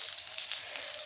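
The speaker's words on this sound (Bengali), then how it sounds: "এই যে মাছ ভাজা হচ্ছে" Fish frying in a pan produces a soft, continuous crackling sizzle, fairly quiet and close, with no speech.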